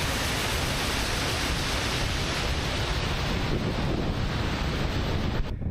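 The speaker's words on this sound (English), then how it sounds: "Here are some more shots of the waterfall." A waterfall near a volcano, heard as a loud, constant roaring rush of water with wind buffeting the microphone, steady throughout and close.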